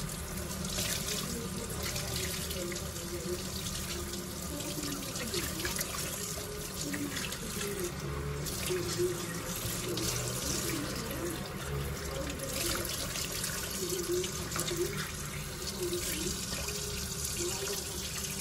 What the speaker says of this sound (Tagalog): Tuloy-tuloy lang na ugas lang.